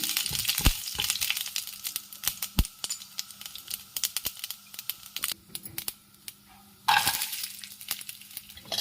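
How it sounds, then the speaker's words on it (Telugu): Urad dal, cumin seeds and chana dal fry in hot oil for sabudana khichdi, a soft continuous sizzle punctuated by sharp clinks and scrapes of a stirring spoon against the pan, with a louder hiss of frying near the end. "ఫస్ట్ కొంచెం మినపప్పు, జీలకర్ర, శనగపప్పు వేయాలి. కొంచెం ఫ్రై అవ్వగానే"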